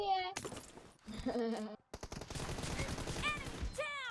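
PUBG gunfire crackles in rapid automatic bursts, dense and steady through most of the stretch. Game sounds and excited talk are mixed in over the shots.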